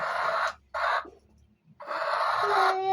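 Loud calls of a black hen in three bursts, clucking and squawking close by with short pauses between, no talking.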